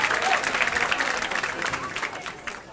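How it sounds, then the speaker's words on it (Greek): A live show crowd gives a hip hop crew a burst of dense applause, with some cheering mixed in, and it fades slightly toward the end. "Ένα χειροκρότημα για την ομάδα!"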